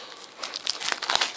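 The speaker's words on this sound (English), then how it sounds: "I'm breaking the seal now. If I can, it's quite difficult to open." Plastic shrink-wrap on a DVD box set crinkles and tears as the seal is broken, close and crisp in irregular bursts, with no voices.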